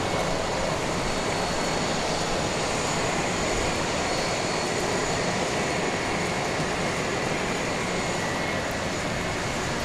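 A C-17 military transport aircraft taxis at Dallas Love Field, its engines a steady, broad roar that holds without a break for the whole stretch, fairly loud and unaccompanied by voices.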